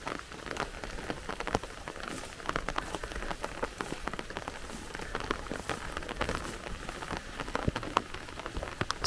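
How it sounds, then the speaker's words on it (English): Steady rain falls on a forest at the edge of a meadow, a dense patter of drops hitting leaves and ground up close, with sharper individual drips throughout and no voices. "Still raining"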